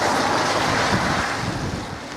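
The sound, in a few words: wind and rain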